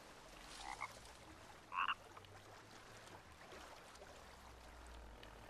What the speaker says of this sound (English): Is that toad just a sound effect or is he actually around?